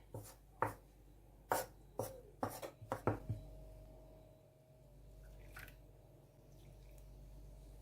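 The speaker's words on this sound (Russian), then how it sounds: "Начинаю вмешивать тесто. Можно это делать прямо руками." Several sharp, wet slaps and squishes in quick succession near the start, then a steady low hum with faint rustling; no voices. Napoleon cake pastry dough being mixed by hand with water.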